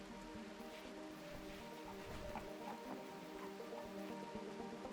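Steady rain falling in the RimWorld video game, a constant even hiss that fills the whole stretch over a faint tonal background.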